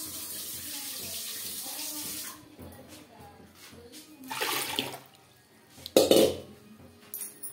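Water poured from a vessel into a cooking pot of dal in a home kitchen, a splashing gush that stops after about two seconds, followed by quieter clinks and a brief sloshing burst near the end.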